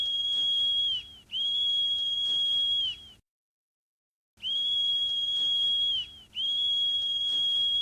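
A whistle in the video game ChuSinGura 46+1 sounds four times as long, steady, shrill blasts, two on each side of a short silent gap, each blast sharp and loud, with no talking over them.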